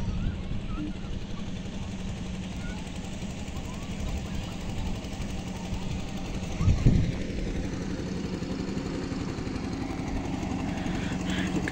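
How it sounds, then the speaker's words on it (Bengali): A small river boat's engine chugs steadily throughout the crossing, a continuous mid-level drone with a brief louder bump partway, while speech is faintly present. "গাইস আমরা এখন নৌকা পার হচ্ছি"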